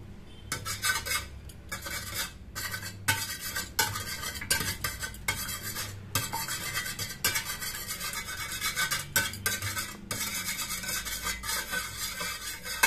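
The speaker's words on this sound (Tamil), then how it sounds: "இதை நல்லா விஸ்க் வச்சு நல்லா அடிச்சுக்கணும்" Three eggs are beaten hard with a whisk in a mixing bowl: rapid, close scraping and clinking strokes that run almost without a break, with short pauses and no talking.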